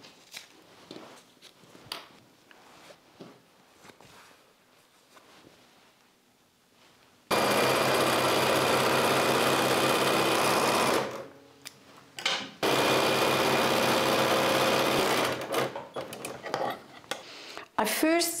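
Sewing machine stitching a quilt strip set, running in two long loud steady bursts with a brief pause between, after quieter handling noises at the start.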